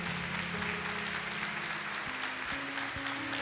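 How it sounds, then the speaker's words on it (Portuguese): A church congregation applauding, a continuous even wash of clapping heard over a held low musical tone that shifts pitch a few times, as from a keyboard playing underneath. "Vamos aplaudir ao Senhor"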